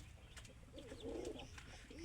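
Pigeons in a farm coop coo close by in low, soft rolling bursts that swell toward the middle, over a faint steady background hum.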